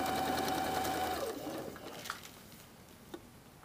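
Sewing machine stay stitching the collar edge of jacket facing and lining pieces in thin fabric: a close, rapid stitching whir that slows and fades out after a second and a half, leaving faint handling ticks.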